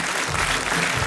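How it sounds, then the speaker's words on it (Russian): Audience applause at a children's art school anniversary concert, dense steady clapping from a crowd filling the hall. "Эти аплодисменты вам сегодня."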